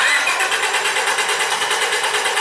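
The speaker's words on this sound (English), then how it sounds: "Go ahead and crank it again." A Honda Civic engine cranking but not starting, the starter whirring in an even, rapid pulsing rhythm throughout, loud and close, with no catch or firing.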